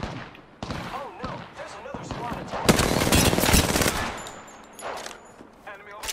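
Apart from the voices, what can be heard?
gunfire in the video game Apex Legends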